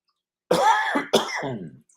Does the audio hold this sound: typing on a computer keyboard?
no